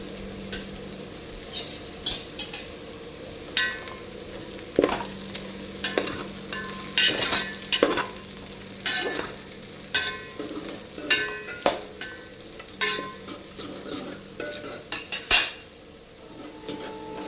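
Green chilies fry in a pan of spices for aloo dum biryani, a steady sizzle broken by frequent close scraping, clanking and clinking as the mixture is stirred with a metal spoon.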